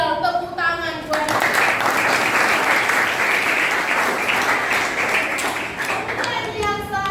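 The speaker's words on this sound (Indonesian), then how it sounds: "Tepuk tangan buat." Applause from a classroom full of children, a dense burst of many small hands clapping that fills most of the stretch, with a teacher's voice speaking briefly before and after it.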